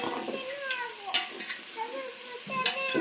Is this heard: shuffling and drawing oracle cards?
no